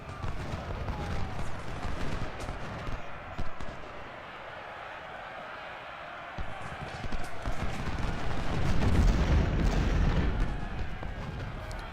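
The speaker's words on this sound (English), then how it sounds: "My cannon will have to take out the artillery." Cannon and artillery fire rumble through a Civil War battle in the video game Ultimate General: Civil War, with dense, continuous booming that swells louder near the end over a background of battlefield noise.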